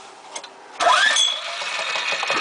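A Briggs & Stratton Intek 190 6 hp small engine with a thrown rod and failed valves is spun over, giving a sudden rising whir that settles into a steady mechanical rattle, close and fairly loud.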